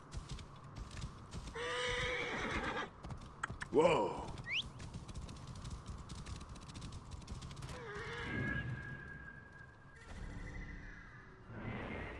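A horse neighs and snorts close by amid clopping hooves in Assassin's Creed Origins, with a brief exclaimed word and scattered game-like sound effects around it.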